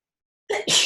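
A single close, sharp sneeze bursts out after a moment of silence, a quick intake followed by a loud explosive release.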